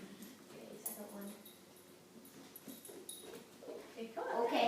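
A puppy named Koa lets out soft, faint whimpers and small yips indoors, with a person talking over it and a brief rise in noise at the end.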